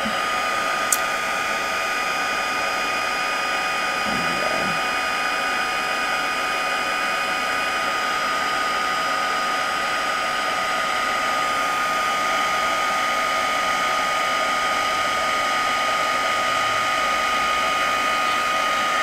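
Heat tool blowing hot air over a tin tile to develop a copper patina, a loud, steady whirring drone running unbroken from start to finish without talk.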